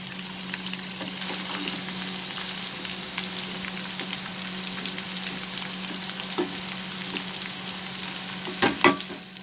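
Bitter gourd stirred and frying in a pan on high flame for a bitter gourd and potato dish, giving a steady, close sizzle broken by scraping stirs and a few louder clatters near the end, with no talk.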